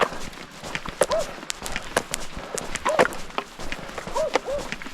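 Loose dogs barking outdoors along a rural walking route, several sharp yelps scattered at irregular intervals, moderately near, over footsteps and rustling.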